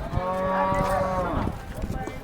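A Holstein Friesian cross cow lets out a long, drawn-out moo close by, over a busy outdoor cattle market background.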